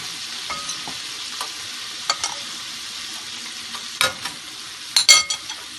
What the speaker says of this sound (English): Now I'm going to be adding my beautiful shrimp, and the curry is done